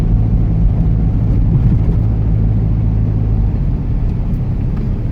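Cars moving slowly through freezing winter fog at around minus 50, a steady low engine rumble close by that holds evenly from start to end with no voices.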